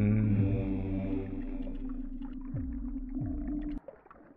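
A frog character in the video game OMORI gives a low, buzzy, droning croak with sliding pitch drops, loud and close, then cuts off abruptly.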